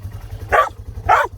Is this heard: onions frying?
no